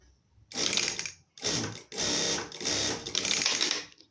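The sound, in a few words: Siruba industrial sewing machine sewing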